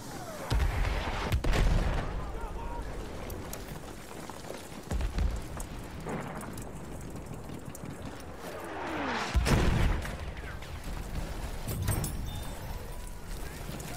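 Grenade blasts and gunfire in a combat video game, with several heavy booms spaced a few seconds apart over continuous rattling shots and battle noise. Voices speak intermittently.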